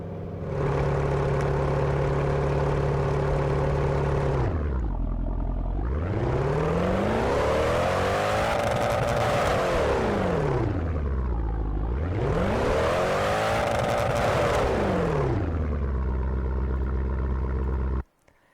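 A modded Mercedes C63 engine in the Assetto Corsa racing game, heard from outside the car: a steady idle, then two long revs that climb high and fall back, loud and smooth, ending abruptly.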